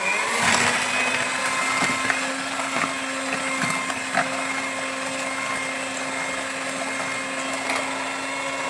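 An electric hand mixer whirs steadily while beating cake batter for steamed pandan putu ayu sponge cake, a constant motor hum with faint clicks and little change in pitch.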